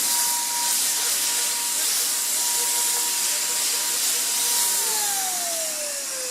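An airless paint sprayer hisses steadily and loudly while coating a black projector screen, a continuous broad spray with a faint whining tone underneath that slides downward near the end.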